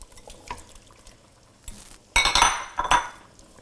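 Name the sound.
stirring shrimp into a fish stew in a pot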